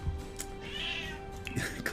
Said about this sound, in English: Meow. Okay. She's talkative today.